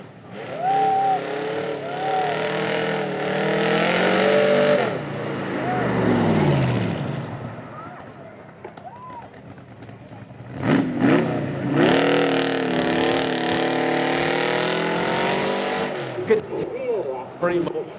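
A Daytona Cobra race car at the Beaulieu Supercar Weekend roars past with a loud rising and falling engine note, then another surge of revving follows, with someone talking over the passing car.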